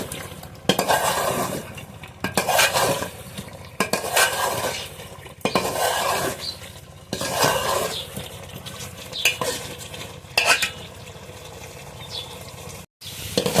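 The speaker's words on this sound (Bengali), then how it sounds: "তেল ছাড়া মাংস রান্নার জন্য মাংসটা অনেক বেশি কষিয়ে নিতে হয়" Mutton being stirred in a pot with a little hot water, cooked without oil: repeated bursts of ladle scraping and clinking against the pot with a soft sizzle, loud and close, pausing briefly between strokes.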